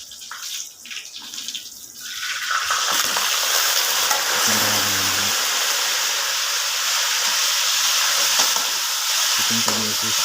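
Chicken and okra frying in a pan, a loud continuous sizzle and crackle that swells after a quieter opening, with faint stirring clatter and brief low tones mixed in.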